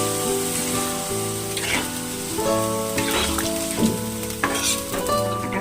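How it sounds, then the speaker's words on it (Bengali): Potatoes sizzle and crackle in a pan after a splash of water goes in, a busy continuous frying hiss with scattered pops, heard over soft background music. "আলুটা আমার বেশ ভাজা ভাজা হয়ে গেছে। এবার সামান্য জল দিয়ে আমি ঢাকা দিয়ে দেবো।"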